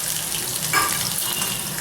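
Mustard seeds crackle and pop in hot oil with sliced green chillies, a steady close sizzle with a few sharper splutters, while making lemon rice.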